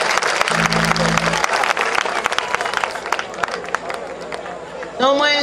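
Congregation applause at a church thanksgiving service, a dense steady wash of clapping with crowd murmur that fades slightly, a brief low hum early on and a singing or speaking voice rising at the end.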